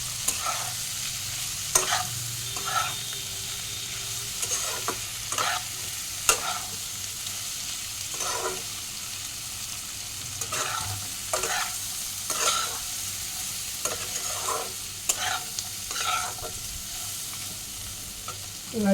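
Spice paste with coriander powder being stirred and fried in a pan for a soyabean muitha dish, with a soft continuous sizzle broken by repeated scraping strokes of the spoon at an uneven rhythm.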